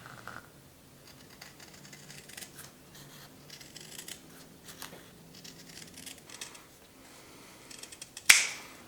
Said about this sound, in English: I chose to use a razor knife for the top and sides and leather scissors for the bottom.